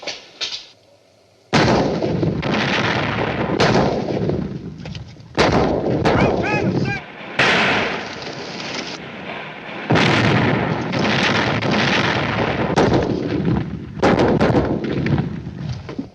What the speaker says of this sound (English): Siege guns. Bigger than anything we've got.